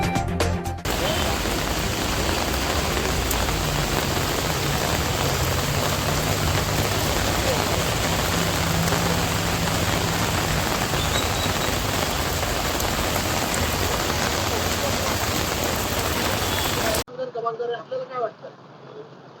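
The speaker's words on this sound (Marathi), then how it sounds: "एकदम मुसळधार पाऊस कर्जतमध्ये पडतोय" Heavy monsoon rain pours down in Karjat, Raigad district, Maharashtra. A loud, dense, unbroken roar of rain on surfaces lasts about seventeen seconds, then cuts abruptly to quieter sound with faint voices.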